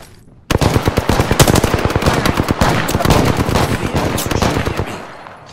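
Rapid automatic gunfire in Apex Legends, a sharp burst of close, loud shots that keeps up for about four seconds and then stops.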